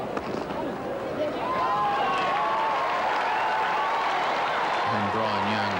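A cricket crowd at the 1994 New Zealand versus Pakistan third test applauds Andrew Jones, a steady wash of distant clapping and crowd noise that swells and holds throughout, with a commentator's voice talking over it.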